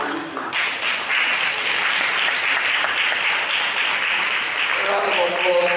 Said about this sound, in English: A round of applause for Professor Yaro.